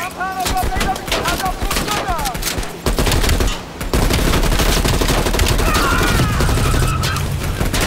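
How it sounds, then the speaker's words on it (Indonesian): Dense, loud automatic gunfire from Call of Duty Black Ops Cold War, sustained bursts with booming impacts layered over game music and effects, broken briefly near the middle. "Kita tembakin ini."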